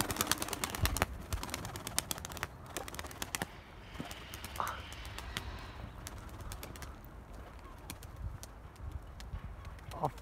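Pigeons in a backyard coop, with soft cooing and scattered wing flaps and clicks of feet against a quiet background, faint and intermittent with no speech.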